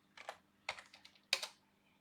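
A computer keyboard clatters while an SQL query is typed into PHP client-management software, three short bursts of close, soft key clicks separated by brief quiet gaps.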